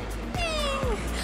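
A woman imitates a cat's meow, giving two short mewing calls, the second one a long falling tone, close and clear with light room noise behind.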